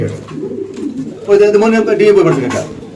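Double-ringed pigeons coo at a market, a deep rolling coo that swells toward the end of the clip while someone talks over them.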